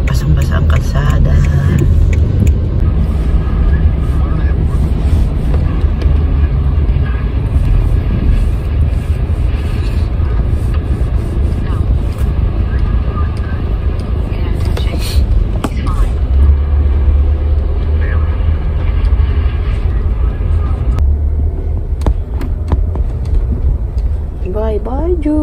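Cars pass on a rain-soaked road in Abu Dhabi, a steady loud wash of tyre hiss and engine rumble running throughout, with a few brief higher squeals near the end.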